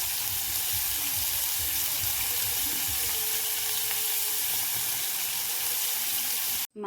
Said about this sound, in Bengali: কড়াই তেল দিয়ে আমি মাছগুলোকে ছেড়ে দিয়েছি